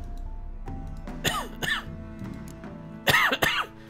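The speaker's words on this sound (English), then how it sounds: "Oh my god, I hate this cough so much." A person coughs several times in rough, throaty bursts, including a pair of harsh coughs near the end, close over a quiet background of game music during The Witcher 3.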